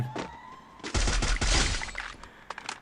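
Gunfire from an expensive weapon skin in Free Fire rings out as a loud, quick volley of shots with a sparkling, shattering effect, followed by a few scattered cracks.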